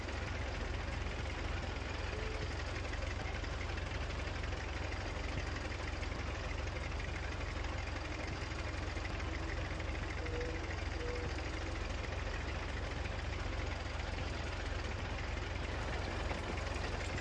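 A simulated Allis Chalmers tractor engine pulls a disc harrow in a farming simulator game, a steady low drone that runs unbroken and fairly loud throughout, with no pauses or speech.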